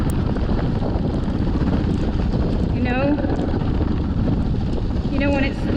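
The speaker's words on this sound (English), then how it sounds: "the engine is not happy. You can hear it trying to cut out." The engine of an off-road vehicle runs loud and close on a muddy guided trail tour, its steady drone mixed with wind buffeting, while people talk over it.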